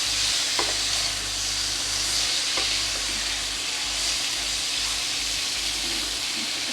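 Eggplant pieces frying in a pan of lentil and spinach dal preparation, with a steady loud sizzle and hiss and a few soft stirring scrapes, close up and continuous with no talking.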